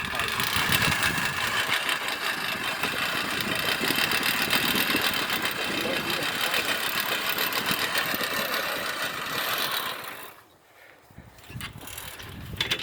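Push reel mower fitted with modified wheels cutting through roughly four-inch grass, a steady close whirring clatter of spinning blades for about ten seconds, then a brief drop before the cutting resumes.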